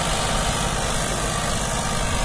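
An Eicher 557 55 hp tractor with a big turbo runs steadily with a constant loud, broadband engine drone and no breaks or voices.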